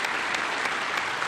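Applause fills a joint session of Congress, a dense, sustained wash of many hands clapping from a large crowd, heard alone.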